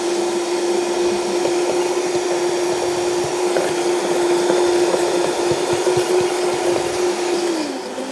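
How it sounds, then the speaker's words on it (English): A blender whirs steadily as it purees a raw vegan lasagna filling until creamy, a loud, even motor drone holding for about eight seconds before winding down at the end. "I would like to blend it right down so it's very creamy."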